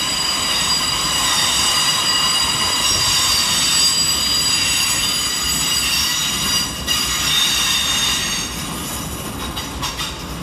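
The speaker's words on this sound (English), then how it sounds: "departing with the 1728 Great Western Railway service to Taunton" A Great Western Railway service to Taunton pulls out of London Paddington, its wheels squealing with high metallic tones over a loud, steady rumble of carriages that eases slightly toward the end.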